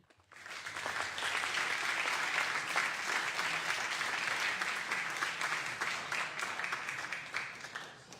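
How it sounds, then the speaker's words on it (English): Sustained applause fills a state Senate chamber, dense clapping from a sizable crowd rising quickly and holding steady for several seconds before tapering at the end, with no talk over it. "join in a round of applause for the work they do"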